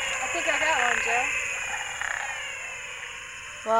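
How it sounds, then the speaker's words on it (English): A Physalaemus frog in Paraguay gives repeated cat-like calls that rise and fall, set against a steady hiss of night insects, with a sharp sound at the very end. "this is the Physiolaemus that you can hear in the background making the cat call"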